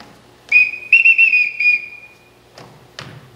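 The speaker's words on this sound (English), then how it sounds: "I won't have to whistle for them" A shrill whistle calls the children in a high school stage production of The Sound of Music, one sustained blast followed by a wavering trill, then two short sharp chirps, loud and close in a quiet hall.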